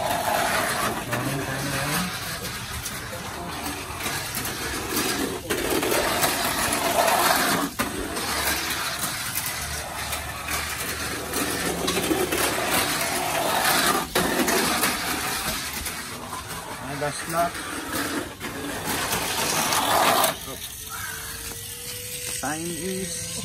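A small toy car motor runs on a white Fujitsu 1.3 volt battery, giving a steady, loud mechanical whir with ratcheting, gear-like texture for about twenty seconds before it cuts off abruptly.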